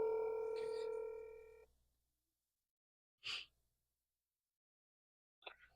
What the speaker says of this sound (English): We're calling Tim on Mom's phone.